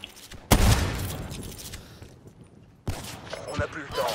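Gunfire in a Call of Duty Black Ops 3 custom match arrives as two sharp bursts, a loud rattling volley and then a second shorter spray, with quieter game noise between them.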